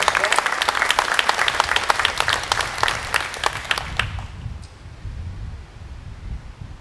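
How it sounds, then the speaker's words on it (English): Audience applause at a civic fundraising event, dense clapping from a crowd that thins out and fades into room noise after a few seconds. "deserve another round of applause"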